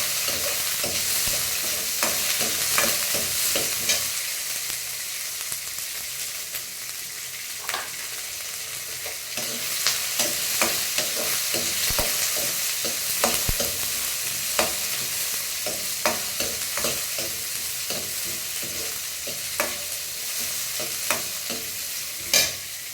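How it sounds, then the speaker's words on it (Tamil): Onions being sautéed in a pan, with a continuous loud hissing sizzle and frequent irregular scrapes and taps of a spoon stirring throughout, close by. "இப்போ வெங்காயம் அப்புறமா நல்லா வதக்கிடலாம்"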